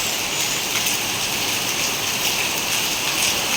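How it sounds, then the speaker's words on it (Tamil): Heavy rain pours down in a dense, steady hiss, loud and unbroken, with the spatter of drops striking surfaces close by. "ஆமாக்கா சரி மழைடா."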